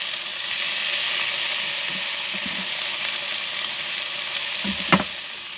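Chopped tomatoes sizzle in a pan over cooked-down onion for a prawn curry, a steady close hiss with a few soft stirring knocks and a sharper clatter near the end, no voices.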